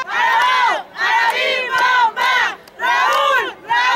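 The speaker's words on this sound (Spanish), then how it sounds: "Y ahí está la porra, muy fuerte." A crowd of fans at a local football final in Mexico chants and cheers loudly in rhythmic bursts of shouting, repeated several times in quick succession.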